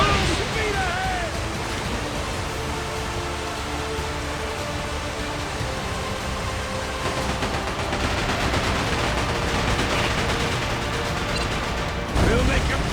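Cannon fire and gunfire crackle through a ship battle in the video game Like a Dragon: Pirate Yakuza in Hawaii, a dense steady barrage with surf-like noise beneath shouted voices.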